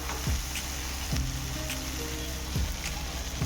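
Pav bread rolls toasting in a pan for homemade pav bhaji, giving a steady close sizzle with soft crackles and a few light scrapes or taps.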